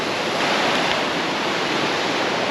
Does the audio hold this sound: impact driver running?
no